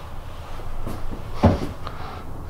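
Hat rack in a 2016 Bison Premier 3H 18SW Super Slide horse trailer is swung open, a short creak followed by a sharp wooden-metal clunk, close and alone.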